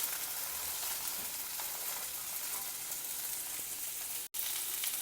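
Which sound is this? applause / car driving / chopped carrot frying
chopped carrot frying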